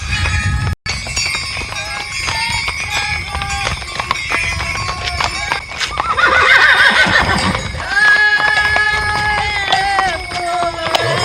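Horses at a Hutsul wedding procession in the Carpathians whinny repeatedly amid clopping hooves, jingling harness bells and crowd chatter, loud and close with several long neighs toward the end.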